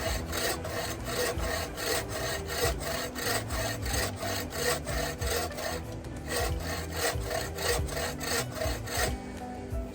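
A bow saw cuts through wood in fast, even back-and-forth strokes, each pass a rough rasping scrape, close and steady, with no one speaking.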